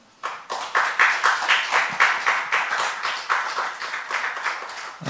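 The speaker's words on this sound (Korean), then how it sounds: "우리 사역자분들께 격려의 박수를 보내드리고 싶습니다" Congregation at a special forty-day prayer meeting clapping in encouragement for the ministers, a clear rhythmic burst of many hands in roughly even beats, moderately loud and unaccompanied by talk.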